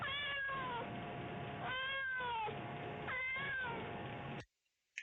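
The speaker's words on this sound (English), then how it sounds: "Let me hear Bill Clinton's cat socks." Socks, Bill Clinton's cat, gives three drawn-out meows one after another, each rising and then falling, close and clear, before an abrupt cutoff.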